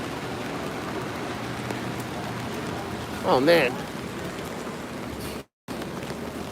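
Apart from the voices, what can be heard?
heavy downpour of rain in San Francisco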